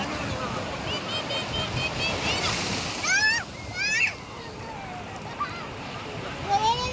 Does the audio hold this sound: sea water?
yes